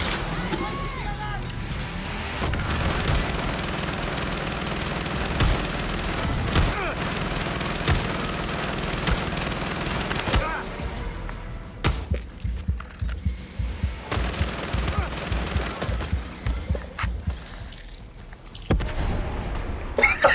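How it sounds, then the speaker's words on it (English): Sustained rapid gunfire from a tank-mounted minigun in the video game Far Cry 6, loud and continuous for about ten seconds, then breaking into choppier bursts and mechanical clatter, with a voice talking over parts of it. "Trying to pull out the minigun."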